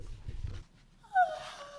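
Coco, a pet dog, gives a quick yawn ending in a thin, rising whine, close by and brief, after a moment of low murmuring.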